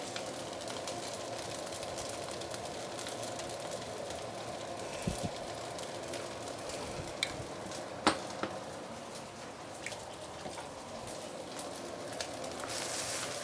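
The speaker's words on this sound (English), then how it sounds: "Give it a few stir." Seafood fried rice with oyster sauce is stir-fried in a wok, making a continuous crackling hiss like rain, with a few faint clinks and taps scattered throughout. No talking.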